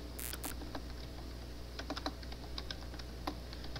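Typing on a computer keyboard while writing Python code, a close run of light, irregular key clicks over a steady low hum.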